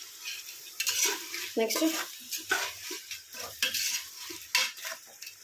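Tomatoes frying for prawn biryani while a spoon stirs and scrapes the pot in irregular clinking strokes over a soft sizzle, with a brief spoken word in between.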